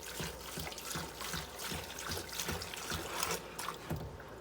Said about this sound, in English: I'm just going to fill this bowl with water.